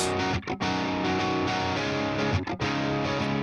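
Distorted electric guitar chords on an Electric Sunburst guitar ring out loud and sustained, with two brief gaps where the strumming cuts off before resuming.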